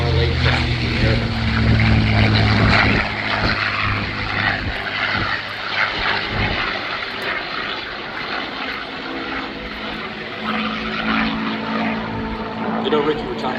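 Propeller airplane performing at the Dayton Airshow, its engine drone loud at first, then fading and continuing at a steadier distance, with an announcer talking over it.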